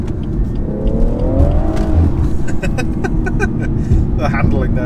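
A 2017 BMW 440i Gran Coupe engine pulls steadily under acceleration, a muted continuous drone with a slowly rising tone, heard from inside the cabin while people talk over it.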